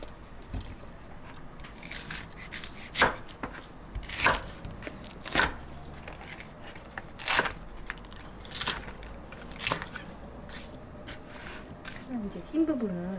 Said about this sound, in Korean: 파를 한번 썰어 보도록 할게요